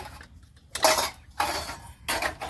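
Dishes and utensils clatter in three separate bursts, a close scrubbing and clinking, with short quiet gaps between them.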